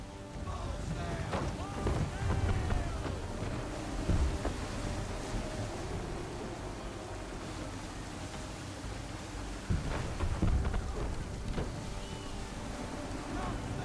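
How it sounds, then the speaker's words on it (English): Stormy seas in Assassin's Creed 3: a continuous roar of wind and water surging around a sailing ship, with rushing gusts, creaks and splashes throughout, loud and dense, and a little game speech mixed in. "There's a storm coming, Captain."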